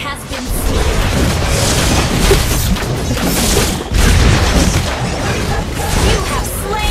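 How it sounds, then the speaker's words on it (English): A turret is destroyed in a video game, with dense, loud booming explosions and crashes running continuously under game announcer speech. "Your team destroyed a turret."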